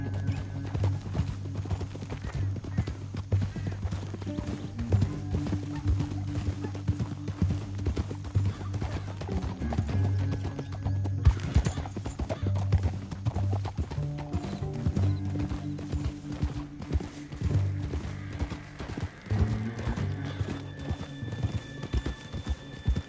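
Horse hooves clip-clop steadily through a PS4 western game scene, a continuous rhythmic clatter over a low ambient bed, with a faint whinny partway through.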